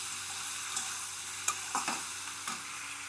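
Fried cauliflower and potato are stirred in a hot pan with tomato and green chilli, a steady sizzle broken by a few scraping spatula strokes.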